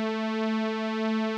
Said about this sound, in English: which sounds a bit like a chorus effect.